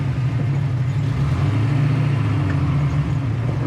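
A 1967 Chevrolet Camaro RS/SS with a four-speed, its engine and exhaust rumbling steadily at low revs, close and loud, with no voices.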